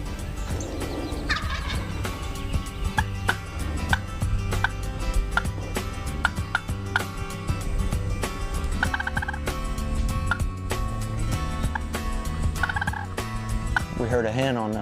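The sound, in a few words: wild turkey gobbling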